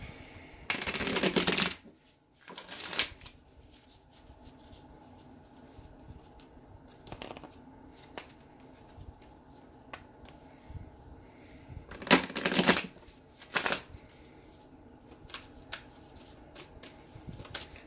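Tarot cards are shuffled in two brisk riffling bursts, one early and one later, with softer taps and slides between them as cards are drawn and laid down nearby.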